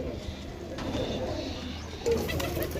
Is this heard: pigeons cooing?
yes